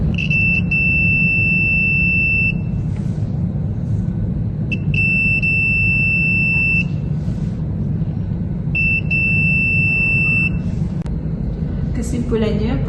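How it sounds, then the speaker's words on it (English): Three long, steady electronic buzzer tones from a multimeter continuity test sound in a row, each about two seconds, over a constant background hum with faint talking. "Saya juga akan melakukan continuity test and buzzer berbunyi yang menandakan sambungan baik"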